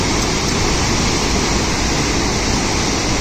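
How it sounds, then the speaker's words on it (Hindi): A powerful, continuous roar of the flooding Gola River in Haldwani, loud and close, steady broadband torrent with no voices. "देख सकते हो कितनी तगड़े से पानी गिर रहा है यार"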